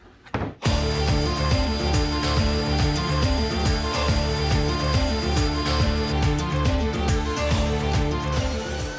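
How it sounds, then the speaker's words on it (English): A router on a sled flattens a wide wood slab with a loud, steady, high-pitched whine and continuous cutting roar, starting abruptly after a brief quiet moment and running on without pause. "I had to use my router sled to flatten each side"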